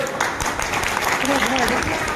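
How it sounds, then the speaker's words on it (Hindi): An audience claps together at an IMC business and leadership training event in Barasat, a steady, fairly loud wash of applause lasting about two seconds, with a voice briefly audible over it. "आज जो है great apply mister Keshav sir के लिए जोरदार ताली मारिए"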